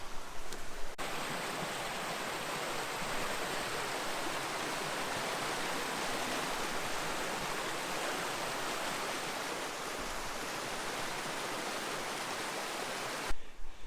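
A creek flows over rocks in a Tasmanian rainforest, making a dense, steady rush of water that stays loud and even throughout, close by and with no talk.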